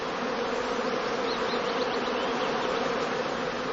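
Honey bees buzzing in dense numbers around swarming skeps at a German bee farm, a continuous close, steady droning hum with no talk.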